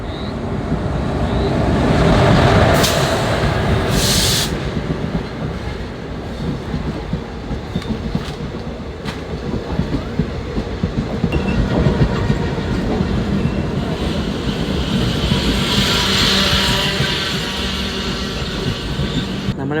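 A superfast passenger train rolls past at Konkan station on the Konkan Railway, a loud, close rumble with rhythmic wheel clatter and brief high metallic squeals, continuing steadily throughout.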